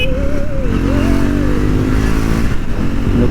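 A Triumph Speed 400 motorcycle accelerates on the road, its engine note climbing and shifting in pitch with gear changes, loud and close against steady wind noise.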